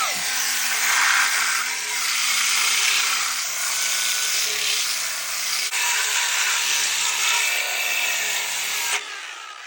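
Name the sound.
sanding a rough-cut wood post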